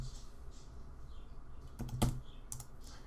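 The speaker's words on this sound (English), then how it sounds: "and I'll hit P on the keyboard." A single key on a computer keyboard gives a sharp click, heard alone and close in a quiet room, with one or two faint taps just before and after.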